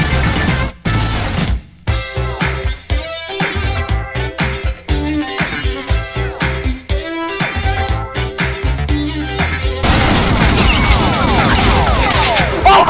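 Loud, dense bursts of gunfire as a group of players all shoot at once in the game Deadzone, with overlapping rapid shots and crashing impacts that continue nearly without a break.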